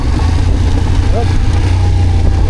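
Engine of a CFMoto CF450MT motorcycle with a loud, steady low rumble as the clutch is released, close by, with a voice talking over it.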